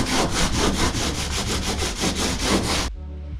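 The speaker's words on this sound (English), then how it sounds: "Alrighty, we're gonna start sanding it now." Power sanding on a boat under restoration, a loud, steady rasping grind with a fast pulsing rhythm, close by and running without speech for about three seconds before cutting off abruptly.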